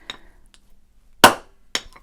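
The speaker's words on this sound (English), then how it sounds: "I stamp and I put my hammer down." A heavy metal-stamping hammer is set down on a hard bench surface, giving two sharp, close knocks about half a second apart after a fainter tap, with near silence between them.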